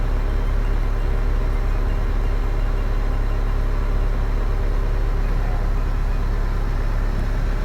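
Car engine idling at around 1000 RPM, a steady low rumble that holds even and continuous throughout, close by, with no talk.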